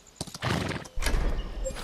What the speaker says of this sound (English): I want to go and mount my horse